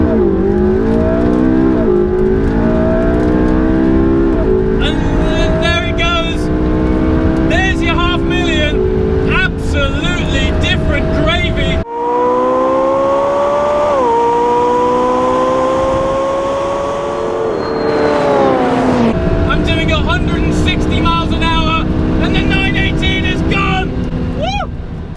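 Porsche 918 Spyder hybrid supercar engine accelerating hard in a drag race, loud rising harmonic whine climbing through gears with a brief shift break midway, sustained and close throughout.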